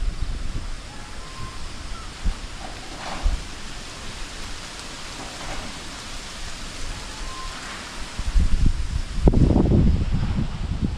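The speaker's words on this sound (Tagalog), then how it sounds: "Hangin po dito sa amin mga kaprobinsya oh." Strong wind blowing outdoors in a rural Philippine province, a steady broadband rush that holds throughout, then surges louder and gustier near the end, with no talking.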